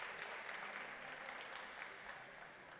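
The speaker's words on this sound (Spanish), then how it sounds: "El público aplaude a los dos jugadores," Sustained applause from the crowd at a prebenjamín youth football match between Polillas and Puerto, a dense even patter of many hands clapping at a steady, fairly loud level throughout.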